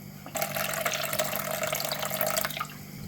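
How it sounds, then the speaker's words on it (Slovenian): Filtered water pours steadily into a container for bread dough, a close, continuous splashing stream lasting about two seconds before stopping, with no talking over it. "300 ml filtrirane vode."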